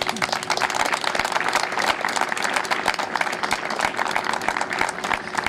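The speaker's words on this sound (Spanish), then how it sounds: "Pido un aplauso para él." An audience at an anniversary ceremony breaks into loud, sustained applause with dense clapping and a few sharper individual claps, steady throughout.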